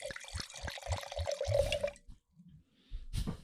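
Wine poured into a glass at a Sonoma winemaking gathering, a steady liquid stream for about two seconds that trickles off into quiet, followed by a short clink or knock.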